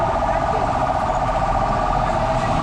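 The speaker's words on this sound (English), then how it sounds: "There's an ambulance, guys." An ambulance siren sounds as the vehicle goes by, loud and steady with a wavering tone over heavy traffic-like noise, and no voices are heard.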